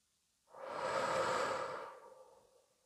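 A long, deep breath let out slowly to release tension, a single soft airy exhale that swells and fades over about a second and a half, close and alone with no talking.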